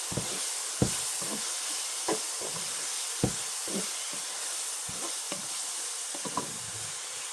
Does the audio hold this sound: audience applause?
no